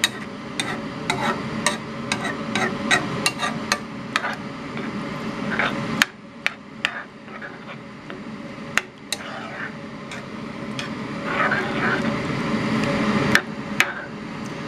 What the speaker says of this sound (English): once you've poured your sauce in, you stir it all in.